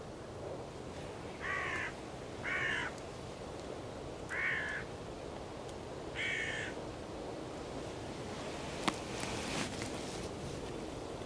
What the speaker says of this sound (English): Finally, the hooded crows have made an appearance.